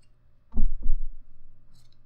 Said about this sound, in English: this is where some good sharp scissors come in hand